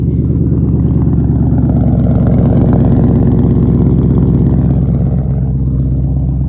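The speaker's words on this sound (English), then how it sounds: "it's going to start up and it's going to idle normal" A 2014 Ford Mustang GT 5.0 V8 with a Bama ghost cam tune idles loud and close in a deep, steady rumble with a faintly uneven, lopey pulse throughout.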